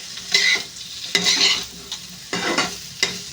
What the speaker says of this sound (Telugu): ఇప్పుడైతే ఇంకా మాడకుండా ఇంకా హైలో పెట్టి తిప్పుతూనే ఉండాలి కొంచెం సమయం.